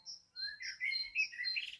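Birds chirp and tweet softly in quick, high overlapping calls, faint and somewhat distant, with no other sound.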